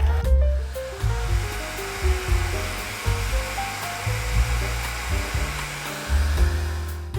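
A hair dryer blows steadily and loudly over a watercolor pencil painting, a continuous airy roar running the whole way with no talking, while faint background music plays beneath it.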